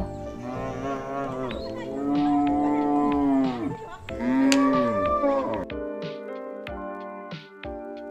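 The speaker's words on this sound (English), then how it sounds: "Cow." Cattle mooing, long, loud, drawn-out lowing calls heard close up in two main bellows, followed by shorter clicking and knocking sounds toward the end.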